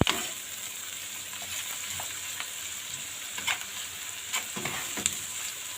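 Onions, peppers and spices sautéing in a pan for a potato and meat tray bake, a soft steady sizzle with occasional light scrapes of stirring, fairly quiet and close, no talking.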